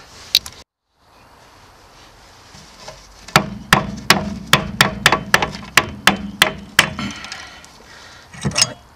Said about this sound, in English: we're going to just give the caliper a light tap